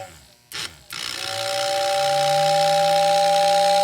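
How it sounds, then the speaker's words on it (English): A Lionel 6466W toy train tender whistle blows loudly and steadily for about three seconds after a couple of brief clicks, with a mechanical motor hum running underneath. "And then you hit your whistle."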